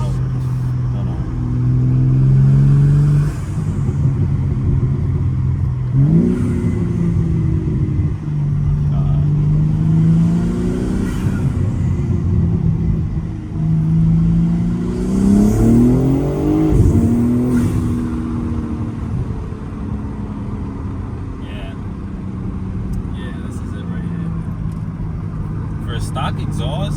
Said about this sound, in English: I don't know if I could tell already by the burbling that this car is doing now